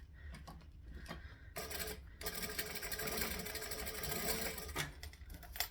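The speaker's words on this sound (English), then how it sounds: "And I'm just going to chain stitch these." A sewing machine chain stitches the ends of a garment, running in long continuous bursts with short pauses between them, steady and close.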